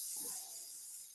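An airbrush sprays isopropyl alcohol through to clean it out, a short, soft, steady hiss of air and fluid that fades slightly toward the end.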